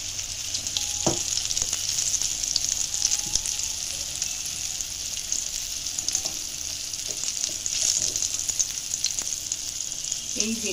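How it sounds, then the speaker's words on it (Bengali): Prawn paste mixed with ginger, garlic and onion frying in a pan, a steady bright sizzle holding for about eleven seconds, close and even, with a few soft clinks of stirring and no talk. "এটাকে এবার ফ্রাই করবো।"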